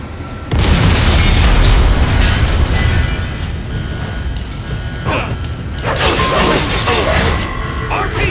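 A loud rocket explosion in Metal Gear Rising: Revengeance, with a heavy boom, a rumbling tail and later crashing bursts and debris, all game sound effects without speech.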